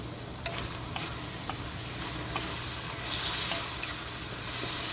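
Pad see ew rice noodles with Spam being tossed in a hot pan, a steady sizzle with periodic scraping and stirring strokes, moderately loud and without talk.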